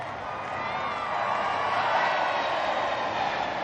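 A crowd cheers steadily as an RAF VC-10 of 10 Squadron flies past, a broad continuous roar of many voices held at an even level throughout.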